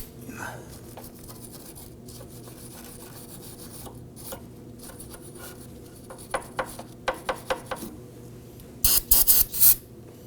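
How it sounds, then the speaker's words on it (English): A small bristle brush scrubs a car's inner tie rod, giving quiet scratchy strokes that turn into a short series of louder brisk rubbing bursts near the end. "I'm going to go ahead and grab a small bristle brush and clean that."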